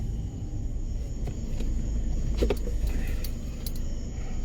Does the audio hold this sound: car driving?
yes